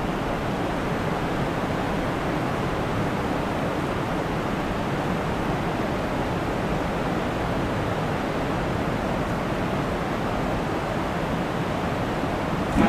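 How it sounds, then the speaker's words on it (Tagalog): Strong river current rushes beneath a bridge where people fish for giant tilapia, a loud, unbroken roar of moving water with no pauses. "Ang lakas ng agos eh."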